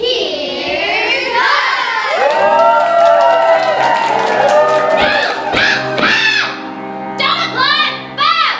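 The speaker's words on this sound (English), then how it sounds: "Don't applaud!" A studio audience cheers, whoops and shouts loudly and continuously, the crowd noise swelling and then breaking into bursts of yelling near the end.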